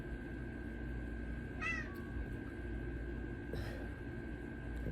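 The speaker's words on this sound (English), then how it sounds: "That damn cat." A cat meows twice, a drawn-out cry and then a fainter second one a couple of seconds later, set against a steady hiss and low background rumble.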